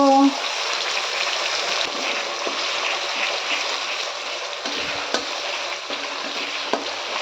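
Water splashed into ground spice paste frying in a pan with bay leaf, dried chili and cumin, giving a steady loud sizzle and hiss with a few clinks; a voice talks over it.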